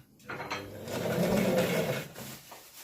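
A Singer 1288 sewing machine runs a short burst of zigzag stitching, a close whirring rattle lasting about two seconds before it stops.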